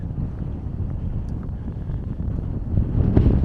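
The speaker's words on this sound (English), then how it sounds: "it's getting windy again" Steady outdoor wind on a countryside walk, low rumbling gusts buffeting the microphone and building louder toward the end, with no talk.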